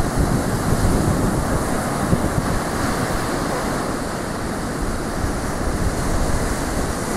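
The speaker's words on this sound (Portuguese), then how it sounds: "Hoje tem onda." Ocean surf at a beach on an overcast summer day, a steady roar of breaking waves with wind buffeting the microphone throughout, no voices.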